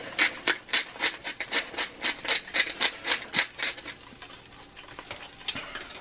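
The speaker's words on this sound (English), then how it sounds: "So stir it in there." Cheddar cheese and black pepper being stirred into a pot of grits on a still-warm burner, giving a steady run of rhythmic, close scraping and soft wet clicks that fade slightly toward the end.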